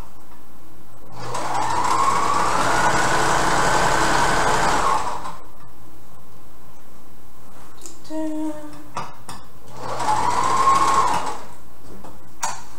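A sewing machine stitches fabric for a cocktail dress in two loud, close bursts of whirring, the first lasting several seconds, separated by a pause with brief clicks and handling sounds.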